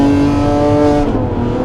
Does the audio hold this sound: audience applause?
no